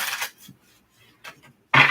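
Tarot cards being shuffled in a couple of brief papery riffling bursts, the last one closer and louder, with quiet gaps between and no talk.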